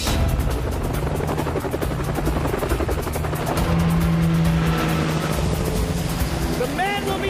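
Helicopters roar steadily overhead at a stunt site, a loud continuous rotor drone with a low chopping pulse, masking everything and holding at close, even intensity throughout.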